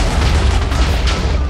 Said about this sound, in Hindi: धमाका कर दिया इस TNT ने तो